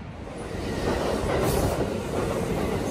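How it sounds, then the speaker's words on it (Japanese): A passenger train ride heard from inside a rail car, a steady rumbling roar with rhythmic clickety-clack of wheels over rail joints, loud and continuous with no talking. "電車に揺られること約40分、"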